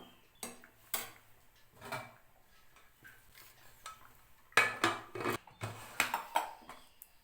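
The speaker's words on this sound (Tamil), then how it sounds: "இப்போ நம்ம குக்கரை மூடிடலாம்" Clattering metal clanks of a pressure cooker lid being set and pressed shut, several sharp knocks in a short burst with kitchen handling noise between.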